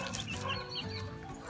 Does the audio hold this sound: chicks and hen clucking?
yes